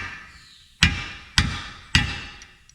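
A hammer drives a seal into a transfer case being rebuilt, an NP205 from a 1967 Kaiser Jeep J2000, striking three sharp metallic blows at a steady pace, each one ringing briefly.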